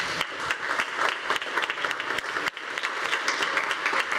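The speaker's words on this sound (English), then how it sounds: "Big round of applause." An audience at an OECD Global Roundtable conference claps in dense, sustained applause, a brief dip midway before the clapping picks right back up.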